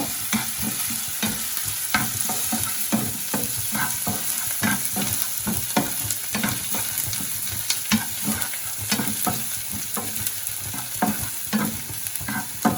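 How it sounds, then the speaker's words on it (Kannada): Paneer cubes fry in a pan for a paneer manchurian, a loud, steady close-up sizzle punctuated by regular scraping stirs with no voices. "ಇನ್ನೂ ಇದು ಫ್ರೈ ಮಾಡ್ಕೋಬೇಕು."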